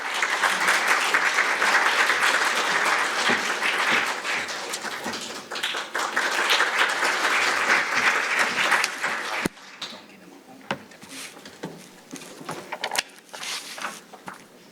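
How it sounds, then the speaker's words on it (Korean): A big round of applause for a lawmaker invited to the stage at a forum on digital healthcare and bio industry, dense and steady for about nine seconds before fading into scattered claps and light room noise. "큰 박수 부탁드립니다"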